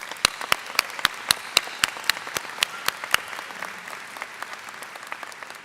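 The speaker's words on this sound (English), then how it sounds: "So please join me in giving them our first round of applause." Audience applause at a university graduation ceremony, a moderate crowd clapping with a few sharp, regular claps standing out near the front, steady and then tapering slightly.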